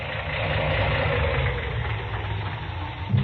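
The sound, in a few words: car engine idling and misfiring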